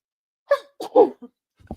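A single sneeze bursts out, a sharp intake then an explosive release, followed by a brief low sniff or shuffle, close and otherwise quiet.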